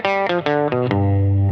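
Electric guitar picked between its two pickups plays a rockabilly phrase of five or six rounder notes, then holds a ringing low note, loud and up close with no one speaking.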